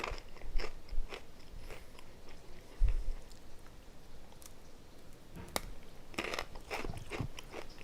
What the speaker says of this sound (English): I'm gonna enjoy a pretzel